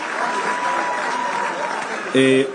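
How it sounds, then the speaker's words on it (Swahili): Clapping from a crowd at an outdoor political rally, a steady wash of applause lasting a couple of seconds before a short burst of amplified voice cuts in. "Tumpigie makofi tena umama."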